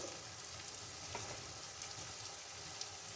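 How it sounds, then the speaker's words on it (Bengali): Ground spices, including ginger paste, turmeric, cumin, coriander and Kashmiri chili powder, sauté in a pan for chicken biryani with a soft, steady sizzle and occasional light stirring, close and unbroken by speech. "মশলাটাকে আমি ভালো করে কষাবো যতক্ষণ না এর থেকে একটা সুন্দর গন্ধ বেরোচ্ছে"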